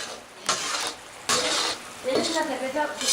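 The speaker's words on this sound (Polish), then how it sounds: "Wrzucamy teraz sepie i kalmary." Cuttlefish and squid tossed into a hot pan for Spanish fideuà, bursts of loud sizzling surging as pieces hit the oil and are stirred, close and intense, with a voice faintly in the background.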